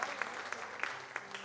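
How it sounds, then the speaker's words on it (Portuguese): A church congregation claps during a worship service, with a brief run of scattered, uneven handclaps whose individual sharp claps stand out at moderate distance. "Vamos aplaudir o nosso Deus."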